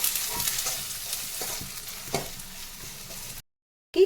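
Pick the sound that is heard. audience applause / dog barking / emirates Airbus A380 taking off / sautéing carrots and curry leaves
sautéing carrots and curry leaves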